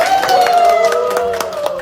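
A small family gathering claps for the eldest brother during a first Chuseok holiday celebration. Close, scattered hand claps run under a sung melody and talking voices.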